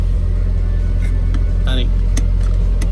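Steady low engine rumble from a 1980 Toyota Corolla KE70 out on a road test drive, a constant drone with brief higher chirps and clicks above it, voices speaking over the motor.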